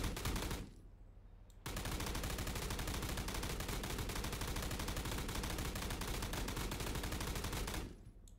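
Rapid automatic machine gun fire in the video game BRM5, from a weapon similar to an M60, a long sustained loud burst after a short opening volley and a brief pause, with no talk.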